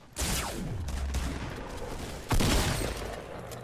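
Call of Duty video game gunfire: two loud bursts of rapid shots, each with a sweeping whine, the second starting a couple of seconds after the first, with no talking.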